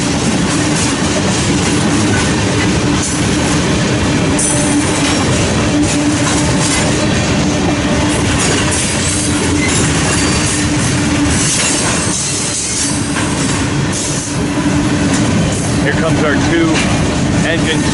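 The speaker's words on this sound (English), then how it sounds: "This one's heading east on Main 2, directly on the Omaha line." A long freight train, two trains combined with mid-train DPU locomotives, rolls eastbound on Main 2 of the Omaha line near Fremont and Ashland, Nebraska, a loud, close, steady rumble and clatter lasting throughout.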